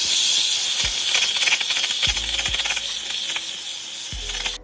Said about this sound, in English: I'm going to take my trusty steamer and just go ahead and steam the bottoms